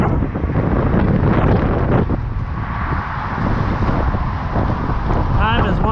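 Strong wind roars over the microphone during a bike ride near Lake Houston, a loud continuous buffeting rumble that dominates throughout, with a brief chirping sound near the end.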